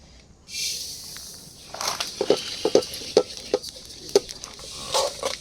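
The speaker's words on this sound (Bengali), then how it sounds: "তিলটা বাইজা লইতে হইব বাজনের লেগে দিতেছি" Sesame seeds roast in a pan for sesame laddu, a soft hiss with a string of sharp scraping and clicking stirs against the metal, close and alone.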